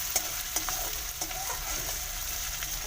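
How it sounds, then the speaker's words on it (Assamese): Chopped onions sizzle steadily in a hot wok for Assamese pork curry, with the scrape and clack of a spatula stirring them at a quick, irregular rhythm close by. "পিঁয়াজখিনি লৰাই দিছোঁ যাতে কিনাৰখিনি দেৰি নাযায়।"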